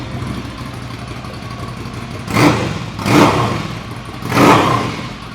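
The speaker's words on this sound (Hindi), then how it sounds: "इसके अंदर लगा है एक्रापोविक का एग्जॉस्ट, जिसकी आवाज़ सुननी जरूर बनती है" A superbike fitted with an Akrapovic exhaust idles close by, then gets three sharp throttle blips in quick succession. Each rev swells loud and deep before falling back to a rumbling idle.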